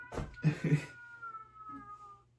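A cat meows close by, a few quick drawn-out cries in succession, followed by a softer trailing mew.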